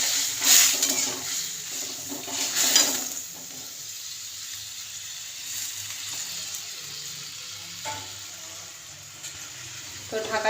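Potatoes with spices fry and are stirred in a pan, giving a soft sizzle and a few scraping stirs early on that fade to a quieter simmer, with a voice talking at times.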